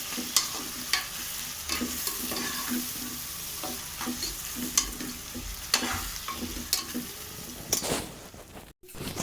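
Chili powder is stirred into hot oil with softened onions and tomatoes for mutton biryani. A steady sizzle runs under repeated spatula scrapes and clacks against the pan, ending in a brief cutoff.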